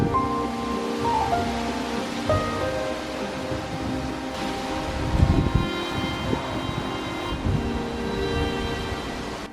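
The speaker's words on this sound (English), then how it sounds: "It's so stormy and windy" Stormy outdoor weather at home, with wind buffeting the microphone and roaring steadily in broad gusts, plus a few faint tonal hums in the background and no talking.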